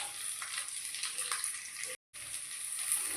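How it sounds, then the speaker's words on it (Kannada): Onions dropped into butter heating in a pan for palak paneer masala gravy, giving a steady, close, fairly quiet sizzle and hiss that carries on with one very short gap. "ಇವಾಗ ಈರುಳ್ಳಿ ಹಾಕ್ಕೊಳ್ಳೋಣ."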